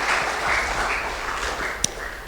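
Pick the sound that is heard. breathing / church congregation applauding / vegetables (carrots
church congregation applauding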